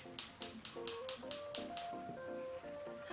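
Quick, light clicking taps on a fully set acrylic nail repeat in a rapid series, close and quiet, with faint tonal sounds lingering underneath.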